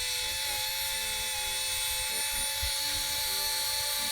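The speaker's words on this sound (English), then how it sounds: "Now I'm sanding away at this fiberglass," A steady, high-pitched mechanical whine with a broad hiss drones continuously as a power sander grinds fiberglass on a boat hull nearby, with no voices.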